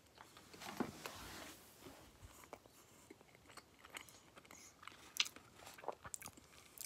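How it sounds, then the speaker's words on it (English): A soft, close bite into a frosted Christmas tree brownie, followed by quiet chewing and faint crunching, heard alone at a low level. "Let me take a bite of this wonderful brownie."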